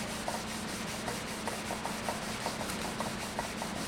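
Sandpaper worked by hand over a wooden stave drum shell gives close, even rasping strokes in a fast steady rhythm, with no voices.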